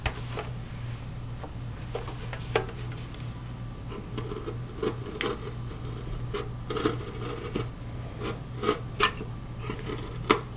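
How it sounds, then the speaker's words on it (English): Scraping and rasping as the front edge of a servo opening is trimmed in the wing of a 3DHS 41-inch Edge RC plane: irregular close strokes of varying strength over a steady low hum. "we're going to need to trim the front edge of the servo opening a little bit so the servo will fit"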